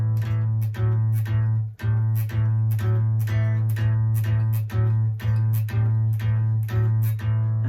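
Guitar rhythm played on open strings, with the first finger moving to change notes: evenly repeated strums over a sustained low bass note, close and clear, with no talking.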